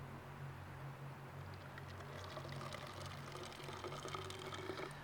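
Percolated coffee poured out of a hiking pot outdoors, a steady soft liquid stream running for several seconds with faint trickling, quiet and close.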